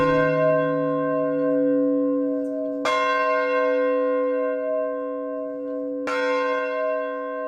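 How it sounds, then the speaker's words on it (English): A large bell cast by the Paul Revere Company of Boston rings, three clear, resonant strikes with long sustained overtones decaying between hits, heard alone. "then later we got a bigger bell, and that bell was made by the Paul Revere Company in Boston"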